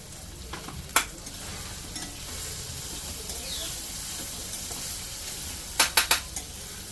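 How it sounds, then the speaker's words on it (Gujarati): Onions frying in a pan for pav bhaji, a soft continuous sizzle and hiss under scraping stirs, with sharp clinks of a spoon on the pan near the start and a quick cluster toward the end. "ઝટપટ કાંદા નાખી દીધા. કાંદાને થોડી વાર ગોલ્ડન બ્રાઉન થવા દેશું"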